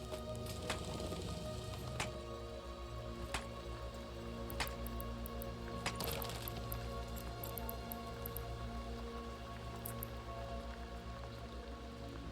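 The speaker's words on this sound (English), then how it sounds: "It's raining now" Steady rain falls in a continuous hiss with scattered drip ticks, under a constant low hum and tonal background that runs throughout.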